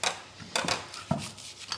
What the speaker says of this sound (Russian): Нарезаем лучок. А потом мелким-мелким кубиком.